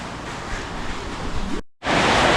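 Heavy rain pours down in Thailand, a loud, steady hiss of dense downpour that drops out briefly before returning just as strong.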